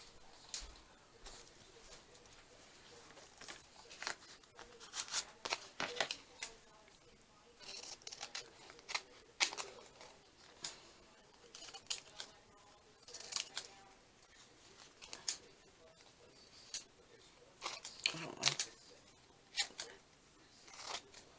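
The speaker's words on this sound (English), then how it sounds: "Do it this way and then I can cut the bad part off." Scissors cut paper for a journal card ephemera holder, making quiet, repeated snipping bursts in irregular clusters at close range against a soft, hushed background.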